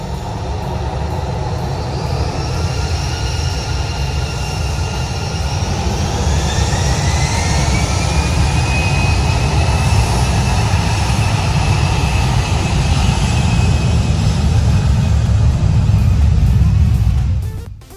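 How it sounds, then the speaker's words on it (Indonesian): A loud, continuous roar of an airplane engine overhead, recorded on an iPhone 11 Pro Max, with a rising whine that holds, then cuts off abruptly at the end. "Contohnya dengan video pesawat ini"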